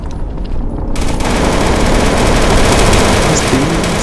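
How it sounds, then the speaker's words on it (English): Continuous, dense automatic gunfire roars without pause from weapons in a Counter-Strike: Source zombie survival mod on a storehouse map, loud and close, with a brief quieter stretch at the very start. "Stop shooting it!"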